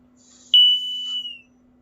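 A Kidde Trusense 2070-VASCR smoke and carbon monoxide alarm gives a single piercing, steady high-pitched test tone lasting under a second, starting abruptly and fading out, alone in a quiet room with faint background hum.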